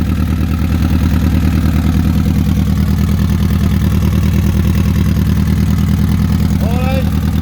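A rebuilt VW CDL engine runs steadily with no downpipe fitted, a loud, even idle throbbing close by for the whole stretch, with a brief high squeak near the end.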